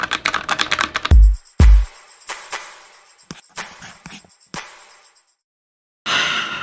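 Keys on a Hansung computer keyboard click in a fast burst, followed by a few heavy thumps and scattered single keystrokes, close and clear, then silence and a short burst of noise.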